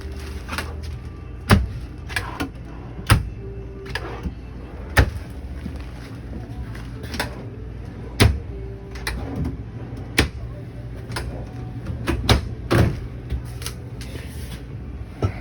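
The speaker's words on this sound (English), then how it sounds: "Open them to make sure they open and close." Drawers in a Fleetwood Flair 35R motorhome are opened and shut, giving about a dozen sharp wooden knocks and clicks at irregular intervals over a quiet interior background.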